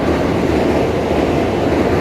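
A train passing close by in Japan, with other trains running on either side, gives a loud, steady rumble and rail roar that fills the whole stretch without a break.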